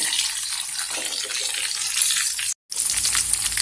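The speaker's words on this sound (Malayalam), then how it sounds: "1 കപ്പ് വെള്ളം ഒഴിച്ച് കൊടുക്കുക." A cup of water pours into a pan of upma with raisins, a steady close gushing splash with a brief break near the end before it resumes, loud and alone.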